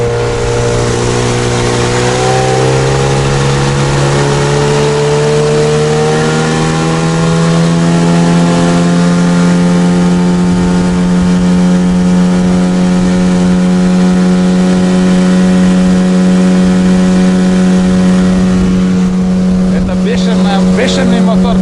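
A Mikatsu 9.8 outboard boat motor powering a boat on a river runs at full throttle, its loud, steady drone rising in pitch early on and then holding close and continuous.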